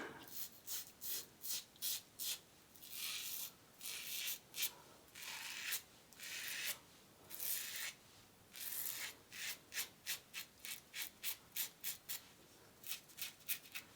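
Yates Titanium Merica safety razor with a fresh Gillette Nacet blade scraping across stubble, faint, close-up rasping strokes in quick repeated rhythm, short separate passes throughout, with no talking.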